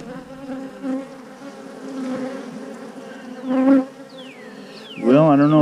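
Bees buzzing steadily around a failed beehive during frame salvage, a close, continuous drone with individual insects swelling louder as they pass near, the buzz rising sharply toward the end.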